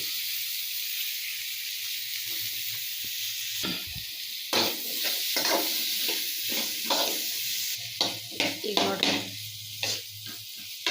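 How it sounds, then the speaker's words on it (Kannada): Grated carrots fry with garam masala in a pan for a carrot palya, a steady soft sizzle broken by bursts of spoon scraping and stirring toward the end. "ಇದಕ್ಕೆ ಗಜ್ರಿ ಹಾಕೋತೀನಿ ರೀ"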